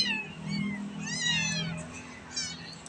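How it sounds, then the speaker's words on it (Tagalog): Three pet cats meow in a sequence of clear, rising and falling calls, loud and close, over a low steady hum, with no talking. "look nyo yung tatlong pusa namin"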